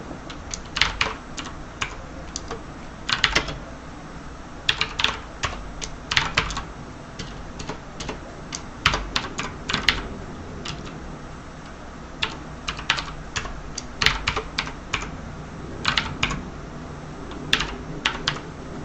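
Code is typed for MPLab on a computer keyboard in close, steady bursts of key clicks with short pauses between runs. Faint room hum sits underneath, and no one speaks.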